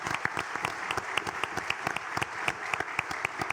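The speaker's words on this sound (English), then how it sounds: "Elected officials, let's give them a round of applause." An audience at a workforce development summit applauds elected officials with steady, dense clapping throughout, moderately loud and fairly close.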